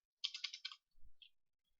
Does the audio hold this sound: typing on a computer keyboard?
yes